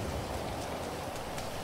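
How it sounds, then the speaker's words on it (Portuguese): Heavy rain falls in a GTA 5 game scene of a flooded, disaster-struck Los Santos, a steady dense hiss of downpour on surfaces, continuous and even with faint scattered drops and no voices. "Tá chovendo demais."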